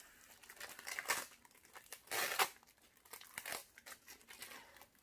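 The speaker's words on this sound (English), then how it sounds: "I'm just trying to take all this plastic off" Plastic wrapping is crinkled and torn off a gifted plant up close, making quiet, irregular crumpling bursts with a couple of sharper rustles and no talking.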